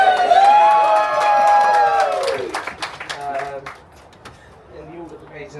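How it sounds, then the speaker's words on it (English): Wedding guests cheer and whoop in a crowd, a loud burst of voices and some clapping that fades out after a couple of seconds, leaving quieter room noise. "Everyone was supposed to cheer there"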